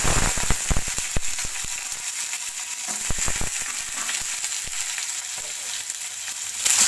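Flat beans (sheem) drop into hot oil tempered with nigella seeds, setting off a loud, close sizzle with several sharp spatula clacks early on, settling into a steady hiss that surges again at the end.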